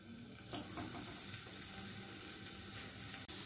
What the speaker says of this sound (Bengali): পনিরের চারপাশটা হালকা করে ভেজে নেব।